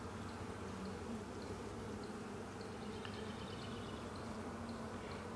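Honeybees buzz steadily and densely throughout an open hive inspection, a continuous near drone of many insects with no talking.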